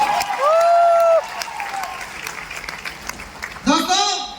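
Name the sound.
loud applause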